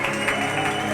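Brief burst of congregational clapping during a church worship service, a dense patter blended with music and voices in the background.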